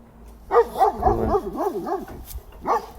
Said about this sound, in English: Bella keeps barking, keeping him at a distance